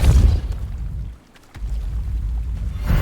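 A Depulso spell cast in Hogwarts Legacy gives a deep booming burst with a rumbling low-end surge, dipping briefly before swelling again near and loud, with no talk over it.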